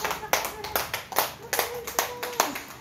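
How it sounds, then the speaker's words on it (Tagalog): A church congregation clapping loudly and steadily in a quick, even rhythm, many hands together at close range, with a voice and faint tones under the applause. "lahat ng mga tumanggap kay Jesus, pumalakpak ng malakas."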